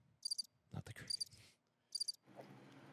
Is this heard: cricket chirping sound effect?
yes